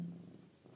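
A domestic tomcat purrs close by, a steady low rumbling purr that continues alone through the short moment.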